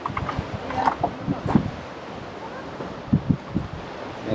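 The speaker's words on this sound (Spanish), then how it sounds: "El famoso río Chanchamayo" The Chanchamayo river in Peru flows in a steady broadband wash, with outdoor wind and scattered brief knocks and rustles over it, heard from nearby.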